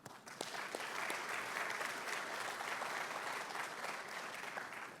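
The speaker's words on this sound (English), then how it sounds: "I'd like to give a round of applause for the Tampa Sports Authority, their board, and Eric Hart" A round of applause from an audience at a Super Bowl kickoff event, steady and fairly distant, filling the hall evenly from start to finish.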